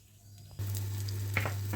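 Mustard seeds hit hot oil in a pan, breaking into a sudden loud sizzle after a quiet start, then a steady crackling hiss with a few sharp pops.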